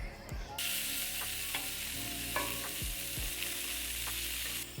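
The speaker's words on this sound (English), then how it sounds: "Sausages are cooking." Sausages sizzling as they cook over a campfire at a glamping site in Lake Louisa State Park, a close, continuous crackling hiss with a few soft knocks and no voices.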